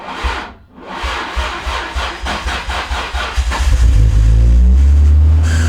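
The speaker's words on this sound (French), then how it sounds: "Faut mettre comme ça ta voiture à démarrer pendant 10 secondes." A car engine cranks repeatedly and struggles to start, a loud rhythmic grinding churn of the starter that finally catches into a deep, heavy rumbling idle near the close, with no talking.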